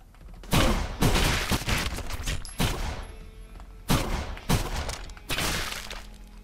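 Gunfire in the video game Reservoir Dogs Bloody Days: several loud, close bursts of rapid shots separated by short pauses, with heavy booming impacts.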